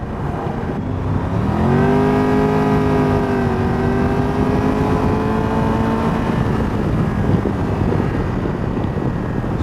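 A 2024 Triumph Tiger 1200 GT Pro motorcycle engine pulls hard on an open road, its pitch climbing steadily before levelling off, close and loud beneath heavy wind buffeting.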